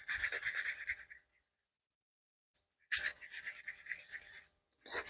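A red glittery mixture is stirred in short bursts of close, brisk scraping and swishing, with a pause of near silence between the rounds of stirring.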